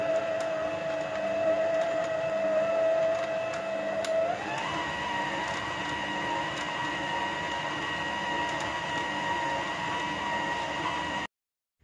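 Stand mixer kneading a soft sweet yeast dough for baked pirozhki on low speed, giving a steady close motor whine that shifts pitch slightly partway through, then cuts off at the end, with no talk.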